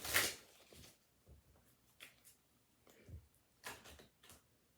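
Tarot cards shuffled by hand in a short, crisp riffling burst at the start, followed by softer scattered card handling and taps.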